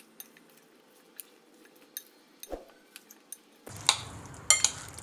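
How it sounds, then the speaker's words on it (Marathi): Diced potatoes are stirred into spice mix in a pan for Pathare Prabhu-style potato bhujane, with a spoon scraping and clinking against metal in scattered light taps that grow busier and louder toward the end. "आता हे बटाटे घातल्यानंतरसुद्धा आपल्याला हे मिक्स करून घ्यायचं आहे"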